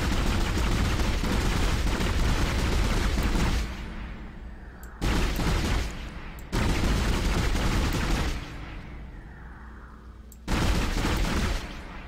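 Sustained gunfire from the player's weapon in the Dead Space video game, long loud bursts of rapid fire broken by short quieter gaps with a lingering rumble, dense and close, no talking.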